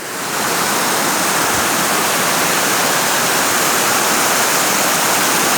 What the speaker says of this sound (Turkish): görüyorsunuz suyun çıkarmış olduğu sesler her biri farklı